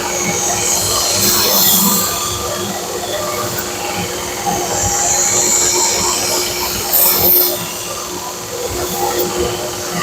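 A rusty knife blade is ground against a tool with a steady, loud, continuous rasp and a thin high squeal that rises briefly, running the whole length without a break.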